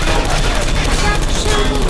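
Gunfire from turrets in Portal 2 rattles in a dense, continuous burst, loud and close, filling the whole stretch without a pause.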